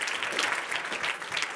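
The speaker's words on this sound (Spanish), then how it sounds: "¿Cuánto le dan un aplauso fuerte al Señor?" A church congregation breaks into loud, dense applause for the Lord during a bilingual Spanish and English service, a brief sustained burst of many hands clapping.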